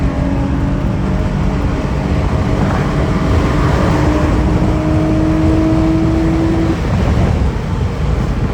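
Acura Type S sedan pulling hard through the gears on a highway, a rising engine drone climbing steadily under heavy wind and road roar from inside the cabin.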